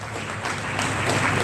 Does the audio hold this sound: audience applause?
yes